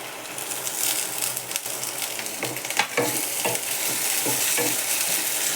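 Peas stir-fried in a pan with kande pohe ingredients, a dense close sizzle broken by repeated scraping strokes of a spatula, loud and continuous with no voices.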